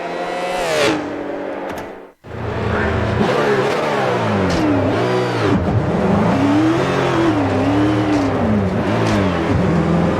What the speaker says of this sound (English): Oh, is that the engine note? Oh, that sounds terrible.